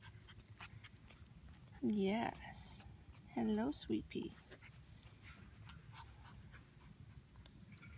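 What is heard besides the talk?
three-week-old puppies whimpering and panting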